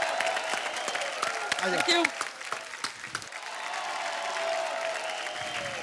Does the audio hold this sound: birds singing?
no